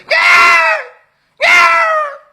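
A voice imitates a baby screaming for milk, letting out two loud, strained wailing cries separated by a brief pause, close and alone.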